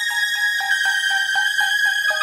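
A bright synth lead run through a grain delay with the pitch turned all the way up and fully wet, repeating short stuttering notes in a steady pulsing rhythm at even loudness, with no voices, for an 80s synthpop beat.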